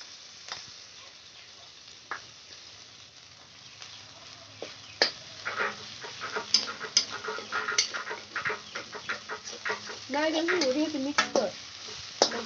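Onion frying in a pan with ginger and garlic added, a soft low sizzle overlaid by scraping stir strokes that grow busier and louder toward the end, with no talking.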